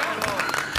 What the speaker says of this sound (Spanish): ¡Aplauso para la puerta!